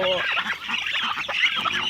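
Geese honk loudly with a flock of ducks quacking and chickens clucking at a home yard in the morning, a dense, continuous chorus of overlapping calls close by.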